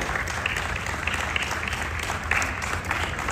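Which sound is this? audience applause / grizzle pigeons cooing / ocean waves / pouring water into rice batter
audience applause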